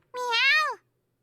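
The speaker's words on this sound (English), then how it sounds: "Sure enough, it's Aoi's kitten meowing from under the bench" A kitten gives a single clear, high meow in a visual novel game, close and clean, rising and then falling over about two-thirds of a second against silence.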